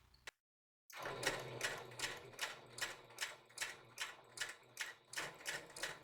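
A sewing machine stitching the body of a Star Trek Skant cosplay costume starts after a short silence, then runs in a steady rhythmic whirring pulse, close and clear with no talking.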